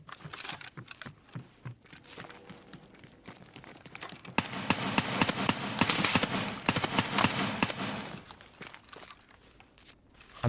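Automatic gunfire rattles in Escape from Tarkov on the Labs map, scattered distant shots early on, then a dense, louder burst of rapid fire lasting a few seconds before trailing off.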